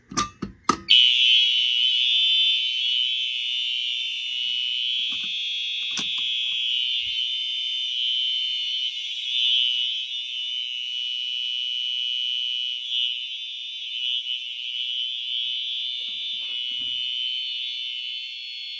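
A building fire alarm system sounds after a pull station is activated: a few sharp clicks, then a loud, continuous high-pitched electronic tone that holds steady for many seconds.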